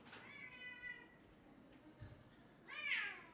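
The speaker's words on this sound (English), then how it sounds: "Very vocal cat." A vocal pet cat meows a couple of times indoors, faint and brief, with the second call louder and higher, over a low background hum.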